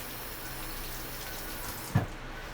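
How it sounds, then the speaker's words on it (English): Tap water runs steadily at a sink while hands are washed beneath it, a soft continuous splashing rush with one brief louder splash or knock near the end. "Let me go ahead and wash my hand on the camera real quick"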